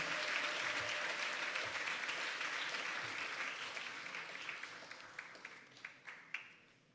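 A graduation ceremony audience at Gingerland Secondary School applauds the school band, a thick, sustained crowd of clapping that slowly fades, leaving scattered individual claps near the end.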